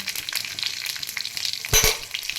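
Cumin seeds and green chillies frying in mustard oil in a kadai, a steady crackling sizzle with a brief louder spattering burst near the end.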